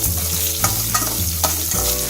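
Coconut fries steadily in hot oil with shallots and garlic, a continuous sizzle, while a spoon stirs and scrapes the pan in a few soft strokes.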